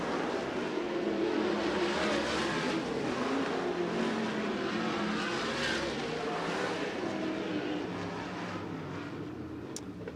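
USAC sprint cars roar around Merced Speedway in a steady, dense wall of engine noise from a packed field, loud and continuous for the whole stretch with no voices.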